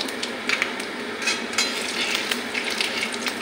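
Whole spices (bay leaf, cumin, cloves, cardamom, cinnamon) frying in hot oil in a wok on a gas stove over lowered heat, a dense close sizzle with light stirring clicks and scrapes throughout, no talking.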